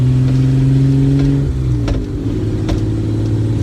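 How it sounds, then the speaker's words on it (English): A BMW E30 Touring wagon with an engine that feels sluggish under throttle, its steady, loud mid-pitched engine drone shifting pitch as revs change, heard close up with no talking. "when you give it gas, it just doesn't accelerate the way you expect it to."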